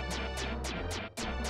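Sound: zip line platform sound in Illusion of Gaia video game

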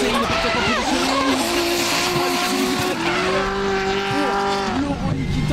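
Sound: BMW and Nissan drift cars with screeching tires

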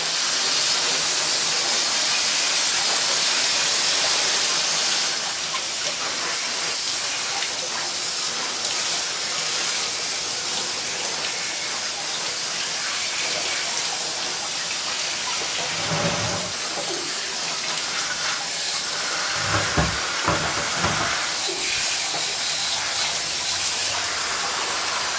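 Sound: water spray rinsing Singer 328K sewing machine motor

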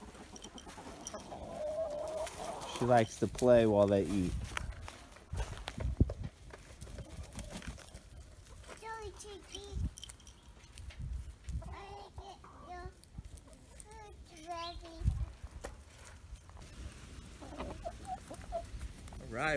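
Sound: chickens clucking on a farm

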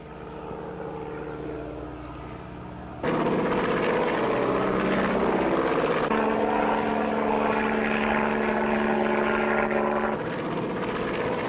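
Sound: seaplane engine and propeller

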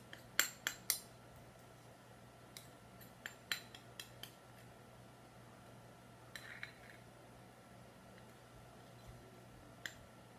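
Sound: spoon scraping honey out of a bowl

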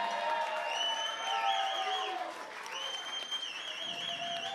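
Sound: audience applause

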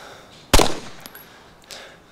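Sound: gunfire at a zombie in the video game DayZ

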